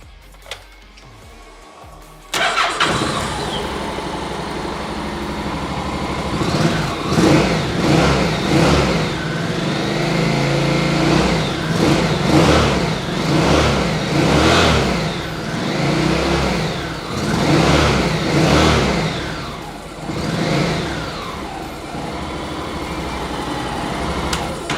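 A Honda NC700 motorcycle with about 25,000 miles starts after a short quiet moment, then runs loud and close, settling into a steady idle broken by repeated rises and falls as the throttle is blipped, with no speech.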